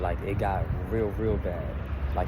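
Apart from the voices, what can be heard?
None of the usual background noises is heard.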